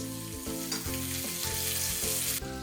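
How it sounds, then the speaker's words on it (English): Steak sizzles steadily in a hot pan as butter is spooned over it, a dense continuous frying hiss with faint scrapes of basting, close and fairly loud throughout, no talking. "Basting your meat allows it to absorb the tremendously flavoured butter and also finishes the cooking process"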